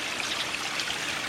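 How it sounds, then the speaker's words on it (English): Water trickles down a small creek spillway running from an upper backyard pond to a lower one, a steady soft wash of noise, close and unbroken, with no talking. "It's just kind of a spillway from the upper pond"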